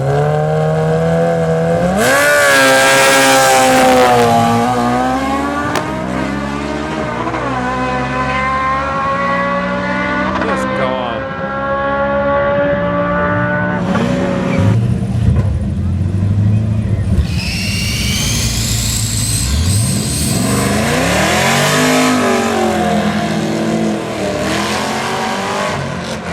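Street-legal Camaro drag cars on street tires with stock chassis roaring loud and close, engines revving and rising in pitch through several passes, with a crowd and voices faintly underneath.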